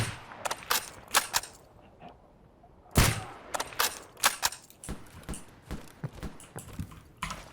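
Suppressed gunshots from a firearm in the game Escape From Pripyat, a series of sharp, muffled pops in irregular bursts, one louder shot standing out among quieter repeated shots, with no talking.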